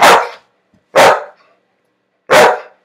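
A single dog gives three loud, close barks, each short and punchy with clear pauses between them, and no other sound around them.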